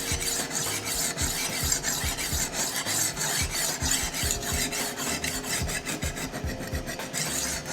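A chef knife rasps back and forth across a diamond sharpening stone in a steady, rapid rhythm of close, gritty strokes, with no voices.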